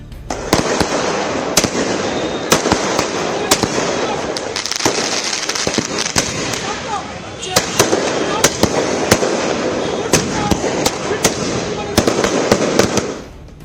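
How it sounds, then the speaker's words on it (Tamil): Firecrackers burst in a rapid, dense barrage outside a house in Mumbai during a post-election celebration. Sharp loud cracks come close together over a continuous crowd roar, with voices mixed in. "தொண்டர்கள் பட்டாசு வெடித்து தங்கள் மகிழ்ச்சியை வெளிப்படுத்தினர்"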